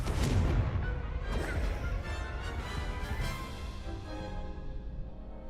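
In the Hogwarts Legacy video game, a Confringo blasting spell explodes with a loud, booming crash that rumbles and then decays into a fading, crackling tail, with no voices over it.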